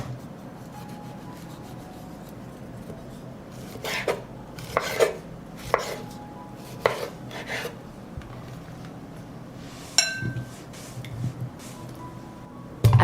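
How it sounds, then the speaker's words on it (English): A knife on a cutting board chops through washed tomatoes, a batch of about three kilograms being cut into pieces, giving a loose run of sharp, separate knocks and cuts that are close and moderately loud over a quiet kitchen background. "I will cut 3 kilograms of washed tomatoes into smaller pieces"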